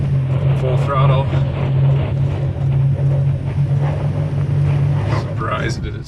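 A 2023 Toyota Tacoma TRD Pro is driven at full throttle off road. Its engine gives a steady, loud low drone with a strong hum throughout, mixed with rumble and jostling from the cab, and faint voices now and then.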